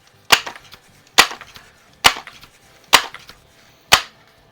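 Umarex Ruger APX NXG pump-action .177 pellet rifle firing Crosman Premier hollow points on five pumps in a garage: five sharp, close, loud shots spaced evenly about a second apart, each with a short decay.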